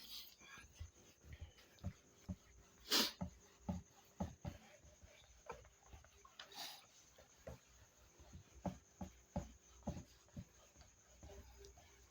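Writing being erased from a board during a rock-classification lesson, heard as a run of soft rhythmic rubbing swipes, close and fairly faint, with occasional breathy sounds between.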